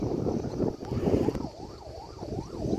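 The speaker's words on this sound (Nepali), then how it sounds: "एम्बुलेन्स कराइरहेको छ।" An ambulance siren wails with a rising and falling sweep amid the rumble of a traffic jam at Naghdhunga near Kathmandu. It is fairly prominent over the steady road noise and grows clearer partway through.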